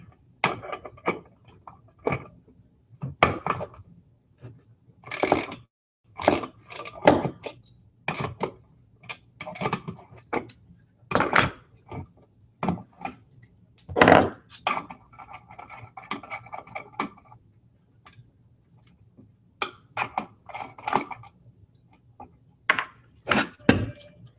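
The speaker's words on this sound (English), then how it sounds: "there's just a hex nut in here I'm going to take off. I sized this ahead of time so I have the right size socket" Irregular series of sharp metallic clicks and taps as a socket wrench loosens a nylon-locking hex nut during a teardown of a Breville Sous Chef food processor, with short bursts separated by quiet pauses.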